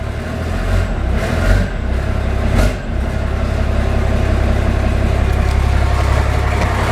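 A car with a DTS alternator and RPM gauge runs steadily close by, a loud low engine drone with a couple of brief swells, as if just fired up and settling into an idle.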